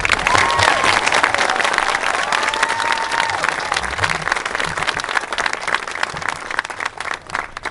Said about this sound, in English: Please give these guys a big round of applause